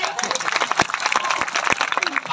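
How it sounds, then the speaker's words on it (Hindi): Outdoor crowd at a tribal gathering clapping in honour of Rana Punja Bhil, scattered uneven claps with a few sharp nearby hits, mixed with chatter and voices. "उनके लिए बजाओ तालियां"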